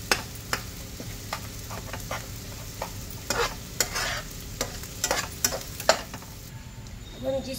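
Semolina halwa roasted with sugar is stirred in a pan, giving repeated scraping strokes over a steady low sizzle, close and moderately loud, with no voices.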